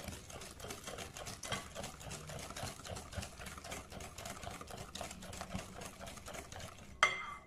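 Hydrated coconut for quindim is mixed in a bowl, with rapid, continuous rhythmic stirring strokes that stay close and fairly quiet, ending in a sharp clink near the end.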